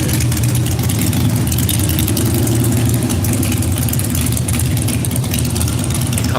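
Motorcycles idle in a loud, steady low rumble as bikers pull in at a gas station, with no clear speech.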